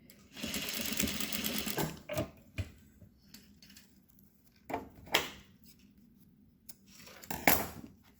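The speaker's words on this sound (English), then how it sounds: "I'm going to stitch again 1/8 inch through elastic and all layers of my casing." A sewing machine stitches through elastic and fabric casing layers, a fast whirring burst followed by short pauses, clicks and brief stitching spurts, close and fairly quiet.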